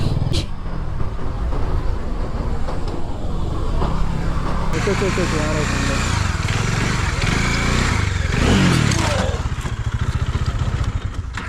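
Bajaj Dominar 400 motorcycle ridden on a punctured tyre, its engine droning steadily and close throughout, with rider speech over it and a brief rising whine near the end.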